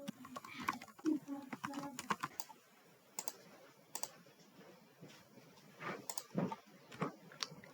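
Quick bursts of typing on a computer keyboard, close and fairly quiet, with irregular clusters of clicks and pauses while a word processor is in use.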